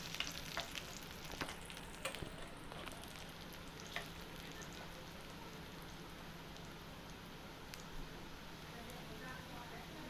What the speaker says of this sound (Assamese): অলপ সময় লৰাই পিঁয়াজখিনি ভাজি থাকিম